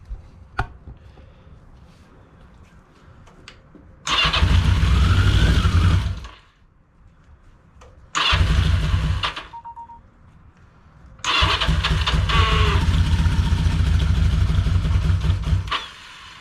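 A 1982 Yamaha XJ650 Maxim motorcycle that had sat for five years cranks and fires in three loud bursts, running rough on the choke for a few seconds each time and dying between attempts.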